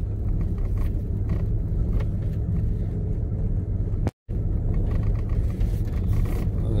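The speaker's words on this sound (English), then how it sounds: "look at all the cars." Cars rumble along a road in a national forest wilderness area, a steady close engine drone and tire noise with a brief dropout partway through.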